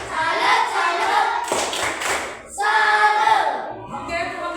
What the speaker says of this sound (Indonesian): Kita tepuk salut buat kelompok 1. Tepuk salut.